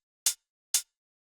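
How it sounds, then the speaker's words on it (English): An open hi-hat sample from a tech house beat in FL Studio strikes twice, each hit a crisp, bright hiss that cuts off quickly, with clean silence around both. "For the hi-hats, there's an open hat, which sounds like this."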